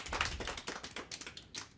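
A small comedy-club audience claps sparsely and unevenly for under two seconds, quiet and irregular, with no one speaking.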